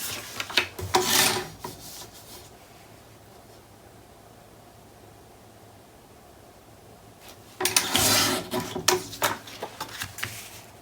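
Paper is trimmed for a mini album page in two close bursts of rough, rasping cutting strokes, about two seconds each, separated by quiet room tone.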